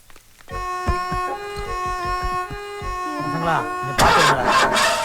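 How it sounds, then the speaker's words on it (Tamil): A car engine cranks in a rapid rhythmic series of starter pulses without catching, then a burst of louder mixed noise follows near the end. "மாப்பிள வண்டி ஸ்டார்ட் ஆகல."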